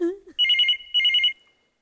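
A mobile phone rings with two short bursts of a warbling electronic trill, clear and close, following a brief spoken word.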